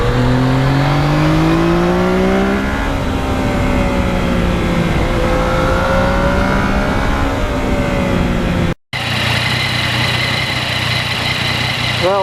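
A 2020 Yamaha MT-09 motorcycle rides along back roads, its engine loud and close, revving through rising and falling pitches with gear changes, a brief cut, then steady high-revving drone.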